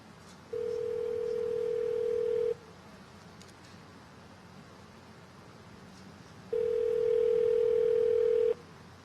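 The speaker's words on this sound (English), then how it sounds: "I'm dialing the number" A telephone ringback tone after a dialed number: two long steady tones about two seconds each, separated by a four-second pause, heard faintly over a quiet line hiss with no speech.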